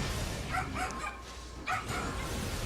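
Several dogs bark and yip in short bursts somewhere in the background, faint and muffled, each burst lasting a moment over a steady low hum.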